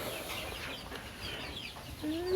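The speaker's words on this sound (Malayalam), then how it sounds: "ഈ കോഴി പൊരുന്നൽ വന്നിരിക്കുന്ന കോഴിയാണ്" A broody country hen settled in a nesting box gives soft, low clucks close by, with a slightly louder call rising at the very end over quiet background hiss.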